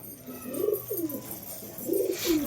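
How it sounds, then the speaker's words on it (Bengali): Pigeons on a rooftop at night giving soft, low cooing calls in two short bursts, close and fairly quiet, with no talking. "পায়রাগুলোকে আজকে অনেক খিদে লেগেছে"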